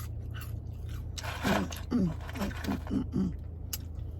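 Rhythmic crunching bites and chewing of crunchy McDonald's fast food, close to the mic, repeating every half second or so over a steady low background hum.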